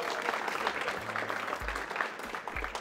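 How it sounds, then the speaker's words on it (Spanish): Studio audience applause on a Spanish-language tech show's 15th anniversary special, a dense, continuous patter of clapping with a few low thumps underneath. "Ahora sí, aplauso."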